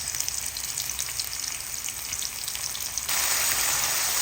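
Garlic, onion and ginger sizzle steadily in a pan, then grow louder and wetter with tomato added for a Filipino stir-fried long bean seed dish; constant close frying hiss with no talk.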